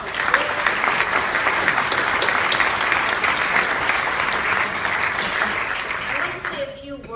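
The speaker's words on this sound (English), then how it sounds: "if we could just give a huge applause for all the people that made this happen" A town hall audience at a county health agency meeting claps steadily in dense, sustained applause for the organizers, fading out near the end.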